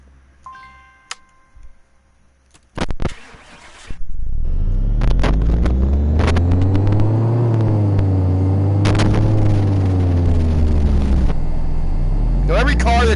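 Car engine in Car Mechanic Simulator starting up on a dyno and running steadily, a loud continuous low drone that rises and falls in pitch, with clicks and ticks before it catches and talk over the run.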